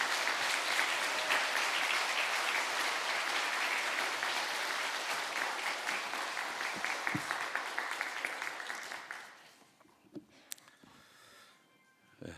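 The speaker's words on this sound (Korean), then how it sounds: "우리 나오실 때 힘찬 박수로 하겠습니다" Church congregation at Masan Dongbu Church bursts into vigorous applause welcoming the pastor, loud and dense for about nine seconds before fading out to near silence with a few scattered noises.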